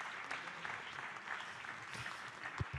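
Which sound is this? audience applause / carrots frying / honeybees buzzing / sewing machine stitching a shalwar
audience applause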